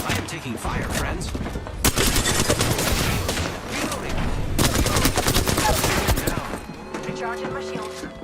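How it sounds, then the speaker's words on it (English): Rapid gunfire from an Apex Legends firefight, dense bursts and fusillades nearly continuous and loud, with a brief lull and tonal game sounds near the end. "They're shooting at me. They went straight down. I am taking fire, friends."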